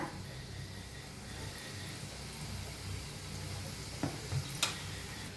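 Vada batter sizzles in hot oil for a Mumbai-style vada pav, a steady low frying hiss with a few brief sharper crackles near the end, close and moderately quiet.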